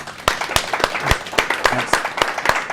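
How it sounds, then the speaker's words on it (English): A small audience claps for guest Andy Howell after a legal talk on core values, sharp distinct claps landing at an uneven beat, a loose and sparse round of applause with some voice in the background. "let's give him a round of applause"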